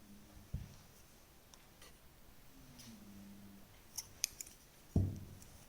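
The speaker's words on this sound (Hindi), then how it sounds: "एक चेन लेंगे और यहाँ पर धागा काट देंगे" Scissors snip through crochet thread, with two short, quiet cuts and faint clicks close by in a still room.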